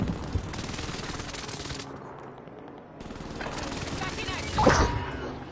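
Gunfire bursts from a one-shot gun in the video game Warzone, sharp shots over a busy game mix, with one especially loud crack near the end.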